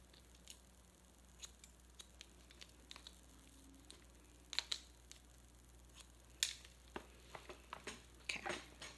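Scissors snipping hair during a short haircut, a quiet close series of irregular crisp cuts in a calm room, no talking.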